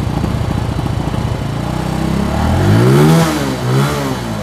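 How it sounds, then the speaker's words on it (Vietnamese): A Bentley 125 motorcycle at a used-bike lot starts and runs, its engine chugging in a rapid uneven idle before revving up in a couple of swelling, wavering blips, close and fairly loud. "Nổ máy cái chơi, anh em nghe chơi cái dòng mà Bentley nha coi."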